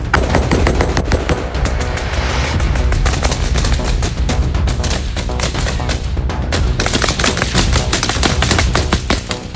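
Dense, rapid bursts of automatic gunfire at Ukrainian military training near Kharkiv, loud and nearly continuous, with sharp overlapping cracks throughout.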